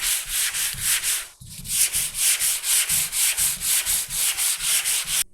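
A sanding block is worked lightly by hand across the body panel of a Mk1 VW Golf GTI Cabrio, giving steady rhythmic back-and-forth rasping strokes, close and clear, with a brief pause partway through.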